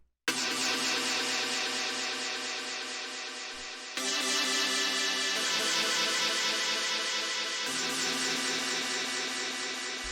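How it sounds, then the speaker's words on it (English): Lo-fi techno synth chord stabs repeat in a steady loop, dense and bright, with the chord shifting at about four and eight seconds and no talking. "The next thing that we have here is this chord stab"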